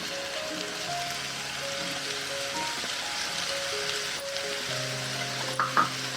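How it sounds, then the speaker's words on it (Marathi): Soybean chunks with spices, onion and tomato frying on a low gas flame, a continuous soft sizzle with occasional stirring clinks and a couple of louder knocks near the end. "मसाले सुद्धा फ्राय करून घेतले तर त्याच्यामध्ये आता सोयाबीन टाकून घेऊया आपण"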